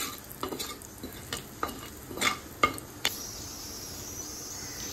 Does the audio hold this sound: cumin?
yes